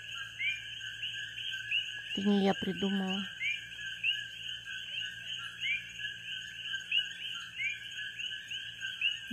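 Hawaiian frogs call in a continuous chorus of high, chirping trills, almost bird- or cricket-like, while someone speaks briefly near the start.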